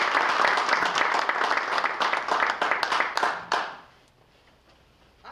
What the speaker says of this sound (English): I always like it when people applaud before they heard anything